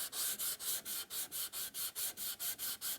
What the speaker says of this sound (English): you can grab some kind of a sanding block and then work your way around